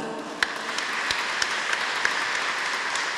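Audience applause inside a basilica during a concert in Szczepanów, a steady dense wash of clapping with a few sharper individual claps standing out, moderately loud and continuous throughout.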